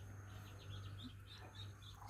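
Eighteen newly hatched ducklings give faint, high, repeated peeping chirps in short bursts over a low steady hum, somewhat distant and soft.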